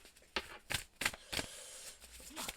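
Oracle cards being shuffled for a tarot-style reading, heard as several quiet, close riffling bursts in an irregular rhythm, each one brief, with no talking.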